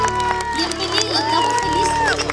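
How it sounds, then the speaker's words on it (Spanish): Applause and cheering from a school crowd welcoming pre-kindergarten children at the start of the 2015 school year, a steady burst of clapping mixed with shouts and a voice speaking over it. "Démosle un aplauso a los chiquititos."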